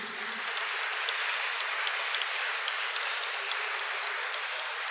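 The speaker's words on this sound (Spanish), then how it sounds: "dale un aplauso al hermano que tenés al lado" A church congregation applauds a fellow worshipper beside them, a bright, even spatter of many hands clapping at close range, sustained throughout with no voices over it.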